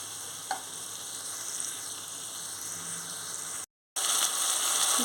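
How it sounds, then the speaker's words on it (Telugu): Gongura chicken sizzles and fries steadily in a pan as it is stirred, a close, continuous crackle broken by a brief cut of silence near the end, with no talking. "ఇప్పుడు ఇది మనం బాగా కలుపుకోవాలి"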